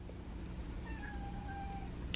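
A feral cat meows twice in a drawn-out, tonal call, fairly close, over a steady low background hum with no talk.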